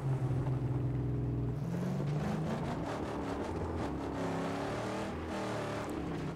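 A car engine in the post-apocalyptic driving game Mad Max, loud and close: a steady droning hum that shifts pitch as the vehicle accelerates and revs, with no talk.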